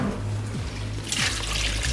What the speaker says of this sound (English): I'm gonna add just a little bit more water to that.